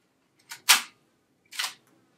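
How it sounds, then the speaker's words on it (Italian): Lomography Graflok instant back on a camera firing its shutter: a quick double click, then a second sharp mechanical snap about a second later, close and dry in a quiet room. "scatto la mia foto"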